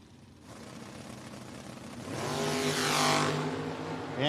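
Drag race cars at a no-box 660 shootout, a Monte Carlo against a custom hot rod, roar down the track, a rising engine drone swelling louder and closer over four seconds with a harsh revving peak near the end.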